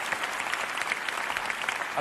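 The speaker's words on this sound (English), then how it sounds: "Give him a round of applause, John" Audience applause at the 2009 Emmy Awards ceremony, a dense, steady wash of many hands clapping loudly throughout, with no voices rising above it.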